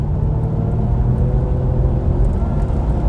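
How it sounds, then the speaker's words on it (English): Supercharged V8 Jaguar XK8 (X100 XKR) accelerating: a steady, loud, low engine rumble with a whirring drone from inside the car, continuous for a few seconds with no talking. "Let's see if we can get that supercharger to make some noise."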